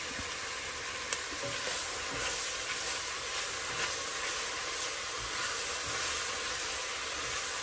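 Rosemary, oregano, onion powder and garlic powder sizzle in a pan over medium heat, giving a soft, steady frying hiss that runs on without a break.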